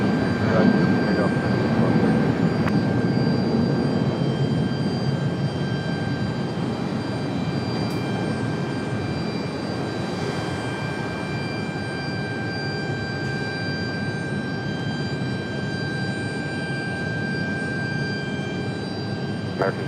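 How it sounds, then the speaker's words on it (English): A Frontier airliner takes off from runway 23 right at Raleigh-Durham airport, a loud, steady jet engine roar that stays strong throughout and eases slightly over time, with faint radio chatter. "Frontier flight 1233, Raleigh Tower, fly runway heading, runway 23 right, clear for takeoff"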